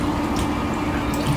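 Water flows steadily from the top hose of an Enagic Leveluk Super 501 water ionizer. It makes a constant, even hiss and trickle, close and moderately loud, with no voices.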